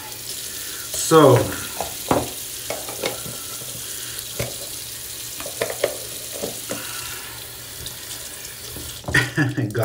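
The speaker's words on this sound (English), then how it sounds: "Just give it a quick rinse out." Water runs steadily from a tap while a shaving brush is rinsed, with irregular splashes and knocks. A voice speaks briefly.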